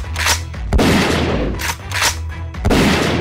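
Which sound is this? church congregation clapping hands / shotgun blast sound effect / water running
shotgun blast sound effect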